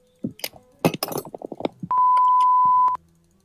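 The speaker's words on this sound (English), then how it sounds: "Are we gonna have to beep you today?" A loud censor bleep, a steady pure tone lasting about a second, cuts over a swear word in casual tabletop-gaming banter, following a quick burst of clattering sounds.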